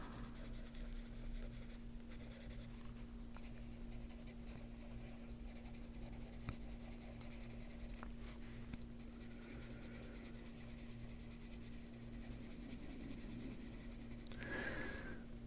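Colored pencil shading across a coloring book page, pressed harder to darken an area: a steady, close scratchy rubbing that runs continuously under a faint background hum.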